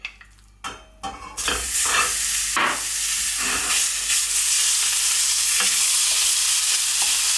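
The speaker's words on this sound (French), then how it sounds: "dans la même poêle, je viens y mettre un petit peu d'huile. Ensuite, je dépose ma viande hachée." Minced meat sizzles loudly in hot oil in a frying pan, a steady crackling hiss that swells after a few soft clunks and stirring scrapes at the start, with no voices.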